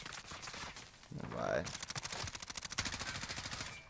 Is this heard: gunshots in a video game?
yes